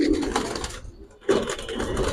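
Pigeons cooing, including a new silver pigeon, with low murmuring coos and soft bird calls up close, a brief lull near the middle before the cooing resumes.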